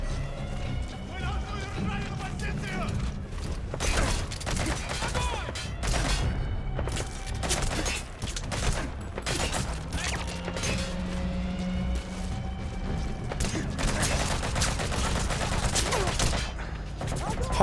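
Sporadic gunfire from shooting in Metal Gear Solid cracks out in scattered shots and short bursts amid heavy game noise and thumps, with talking over parts of it.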